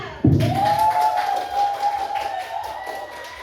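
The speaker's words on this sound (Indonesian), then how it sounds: "Ya, tepuk tangan semuanya." A classroom of students claps for a student group, a sudden burst of many hands that settles into a scattered patter, with a voice and some chatter over it.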